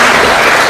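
Dense, steady applause from a crowd fills the whole short moment, loud and close, greeting President Ruto at a ceremony for signing the housing bill.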